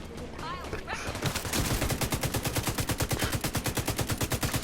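Rapid sustained gunfire from a weapon in The Division 2, a fast regular burst of loud repeated shots that continues steadily after a brief moment of game sounds.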